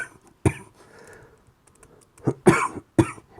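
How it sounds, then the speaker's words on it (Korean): A few sharp coughs from a person with a cold, one early and a pair close together near the end, with a throat-clearing sound between, close to the microphone in a quiet room. "자꾸 기침해서 미안"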